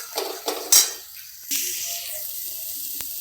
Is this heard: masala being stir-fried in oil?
yes